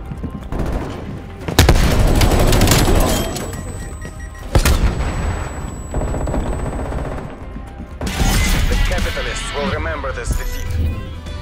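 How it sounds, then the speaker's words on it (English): Explosions and gunfire in Call of Duty: Cold War team deathmatch on PS5: two sharp loud blasts, one early and one midway, each trailing into rattling shots and rumble, with another burst of firing near the end. "Throwing frag."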